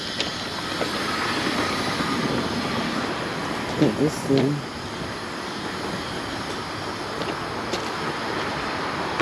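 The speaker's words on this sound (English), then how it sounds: "Okay, big old train right there." A big freight train rolls past on the rail line below an overpass along the Appalachian Trail, a steady heavy rumble with wheel noise throughout, a hiker's brief voice cutting in near the middle.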